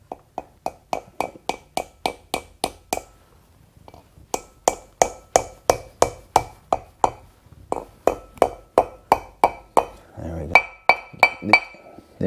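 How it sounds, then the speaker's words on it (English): Rapid, even metallic taps of a hammer on a front brake part of a 1978 Trans Am, ringing sharply in quick runs with brief pauses between sets, close by. "I take this hammer and just hold the one end down and just easy tap it in"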